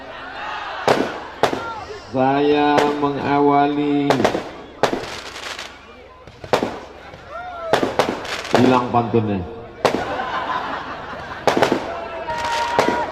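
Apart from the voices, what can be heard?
firecrackers exploding during a sermon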